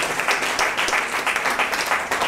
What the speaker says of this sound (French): sous vos applaudissements, s'il vous plaît, pour ce discours magnifique.